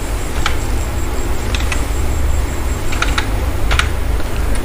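Fingers tap a one-time passcode into a computer keyboard, with a few isolated keystrokes and quick clusters of clicks over a constant low background hum.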